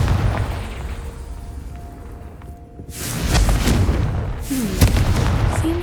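A Confringo fire spell exploding in the video game Hogwarts Legacy, a loud, booming blast that rolls into a sustained rumbling roar with a sharp crack near the end, heard alone.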